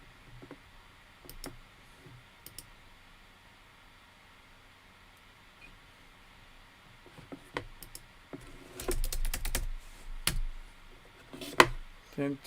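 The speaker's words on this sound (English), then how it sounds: "Can you get typing in there again?" Computer keyboard typing in a quiet room, scattered light clicks early on, then a denser, louder burst of keystrokes toward the end, with faint background hiss.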